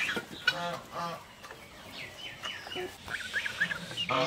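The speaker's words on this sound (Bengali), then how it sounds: "হাঁসের বাচ্চাগুলা বড়ই হয়ে গেছে" Several young ducks quack and peep repeatedly nearby in a busy, overlapping chorus.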